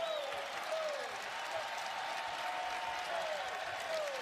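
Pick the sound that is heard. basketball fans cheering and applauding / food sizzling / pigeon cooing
basketball fans cheering and applauding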